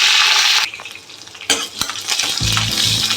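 Mustard oil heats and sizzles in a pan, a bright hissing fry that cuts out briefly, broken by a few clinks of a utensil against the pan.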